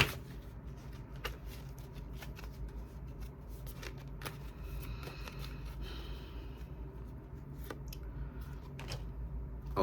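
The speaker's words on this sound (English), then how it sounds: "Let me shuffle this up." Tarot cards being shuffled close up, a quiet steady riffling with soft sharp snaps at irregular intervals and no talking.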